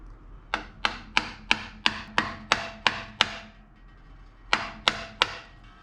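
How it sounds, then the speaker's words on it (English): A screwdriver is hammered into a stuck oil filter on a Suzuki Carry DC51T: about ten sharp metallic blows in a fast, even run, a short pause, then three more strikes, close and clear with no talking. "I'm gonna punch a screwdriver through it and then just twist it off"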